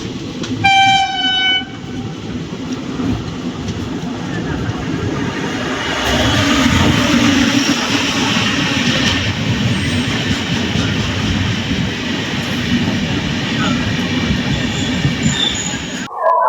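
The 12603 Hyderabad Superfast Express train rolls along with a sustained rumble of wheels on track and squealing rail noise, opening with a brief loud horn blast and continuing as a steady, close clatter.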